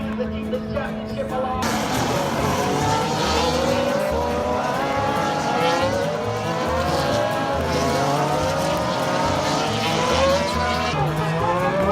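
Formula 1 race cars on the final lap of a race in Texas, a loud continuous engine roar with rising and falling whines as cars pass, heard from the stands amid crowd noise throughout.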